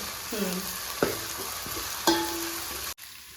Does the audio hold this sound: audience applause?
no